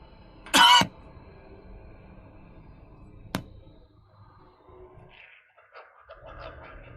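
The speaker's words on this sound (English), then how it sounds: "You key the mic for that cough" One loud, short cough close to the mic, followed by a sharp click and then quiet room sound with faint background noises from a computer game.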